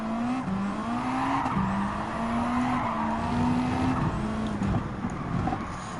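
A Subaru WRX Group B rally car in Gran Turismo 7 drives under a steady, loud engine drone that rises and falls through gear changes, with tire noise and skidding mixed in throughout.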